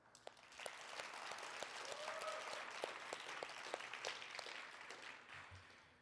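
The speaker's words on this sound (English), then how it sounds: "I'd just like to give a round of applause to everybody that presented their speeches before me" An audience at a Soapbox Nation speech event applauds the speakers who came before, giving sustained, even clapping that stays fairly faint and distant with a few sharper individual claps poking through.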